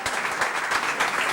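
A short, steady burst of audience applause, a dense wash of clapping hands heard from a slight distance.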